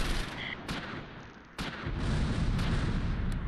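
Mortar fire in the World War II strategy game Close Combat V, heavy booming blasts and rumbling explosions layered over continuous battle noise, with sharp impacts at intervals and a dense low roar building toward the end.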